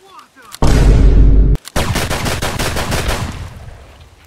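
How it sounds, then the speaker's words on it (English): Loud, close gunfire from Escape from Tarkov in PvE mode: a heavy booming blast, a brief gap, then a fast run of sharp automatic shots that trails off. "That was the most painful shooting I have ever done in my life."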